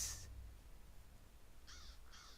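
Crows caw in a fantasy online role-playing game: one harsh call at the start, then two more caws close together near the end, over a faint ambient background.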